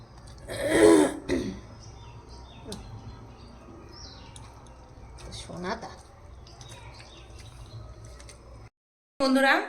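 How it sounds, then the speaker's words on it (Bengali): A sharp cough or throat clearing bursts out near the start, followed by quiet room noise, faint chirps and a brief loud sound at the end. "কাশি হচ্ছে"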